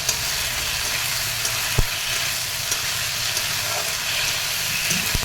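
A whole tomato and ginger pieces sauté in a masala-coated pan, a steady dense sizzle with a few sharp knocks and scrapes of stirring, close and unbroken by speech.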